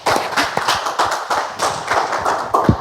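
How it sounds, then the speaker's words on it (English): A studio audience on a television music set claps together in a brisk, steady rhythm, loud and close, with sharp individual slaps standing out of the applause. "Let us keep clapping."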